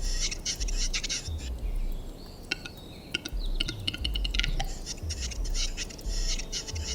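A male heathcock's repeated clicking, rasping courtship calls come in bursts over a steady outdoor hiss, fairly close, in the wild in Bulgaria.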